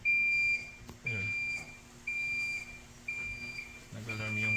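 A JK BMS battery management board beeping an alarm during a firmware update: four evenly spaced, moderately loud electronic tones about one second apart, with a person's voice audible between and under them.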